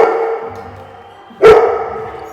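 A frightened, agitated dog gives a single loud, sharp bark over a steady background hum, standing out clearly for a brief moment.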